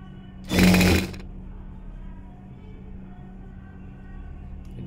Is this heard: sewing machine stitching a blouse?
yes